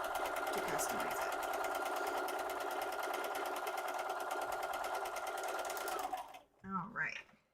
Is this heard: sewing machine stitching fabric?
yes